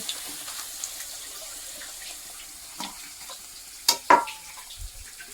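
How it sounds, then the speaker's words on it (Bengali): Luchi fry in hot oil with a faint, low sizzle broken by scattered pops and crackles. Near the end, a couple of sharper clinks stand out above the frying. "লুচিগুলো দারুণ ফুলছে কিন্তু আমি এসে দেখলাম মা যেগুলো ভাজলো সেগুলো খুব সুন্দর ফুললো আর আবার আমি এই ভাজা আরম্ভ করে দিয়েছি"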